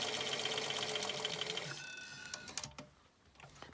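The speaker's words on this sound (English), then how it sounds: "I'm just going to sew round" A sewing machine stitches round the seam of a shaped face mask, a steady fast rattling whir close up that slows and stops partway through, leaving a few faint clicks.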